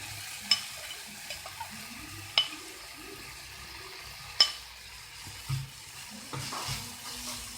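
Crushed potatoes fry in a pan for a spicy omelette, giving a soft, continuous sizzle. A few sharp scrapes from the spoon stirring them stand out at intervals, all quiet and close, with no talking.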